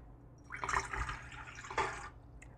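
Water poured into a bowl for empanada dough, a brief close splashing pour of about a second and a half with a second small gush near the end, soft and alone.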